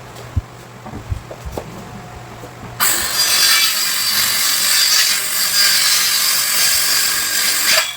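A saw cuts wood pieces for a twin bench, starting after a few light knocks and clicks and then running as a loud, steady, close buzz for about five seconds.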